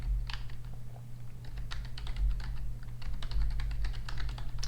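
Code is typed on a computer keyboard in an irregular stream of crisp, close key clicks over a steady low hum.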